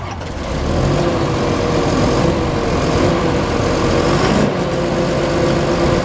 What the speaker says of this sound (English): Terry, do you want to start that tractor up, old buddy?